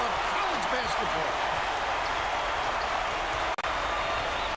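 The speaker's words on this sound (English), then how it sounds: "Listen to the crowd burn." Crowd in the College Basketball 2K8 video game cheering and roaring, a dense, steady wall of noise that holds loud and constant, with a brief drop near the end and faint bounce-like thumps underneath.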